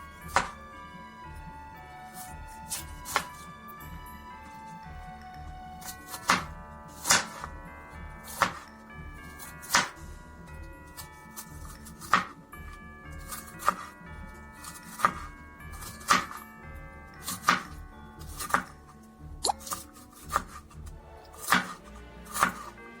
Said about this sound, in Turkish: Şimdi önce karnabaharlarımızı bu şekilde minik minik doğrayacağız.